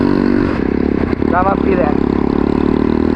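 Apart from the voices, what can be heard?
motorcycle engine revving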